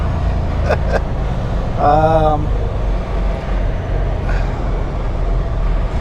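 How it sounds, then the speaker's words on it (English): A train's long, deep horn blares once for about half a second at a road crossing, over the steady rumble of road noise heard from inside a moving vehicle. "Got ourselves a little choo-choo train blocking the road"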